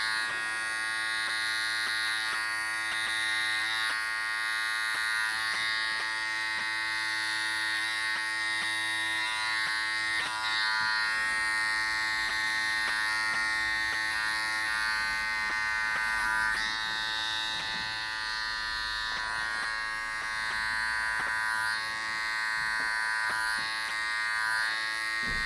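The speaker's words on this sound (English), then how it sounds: "So look at the action here with the clipper head" Electric hair clippers run steadily while cutting and tapering a man's hair, giving a close, constant buzzing hum with slight changes in tone as the blade moves through the hair. No one speaks.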